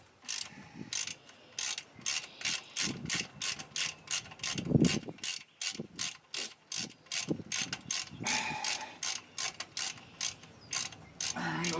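A hand ratchet wrench clicks in steady rapid strokes while front brake pads are replaced on an Astro or Safari van, a close, even series of sharp ratcheting bursts continuing throughout.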